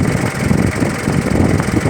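A 2.8 turbo diesel engine in an Isuzu Rodeo 4WD motorhome idles smoothly nearby, with a steady, even low rumble and no talk.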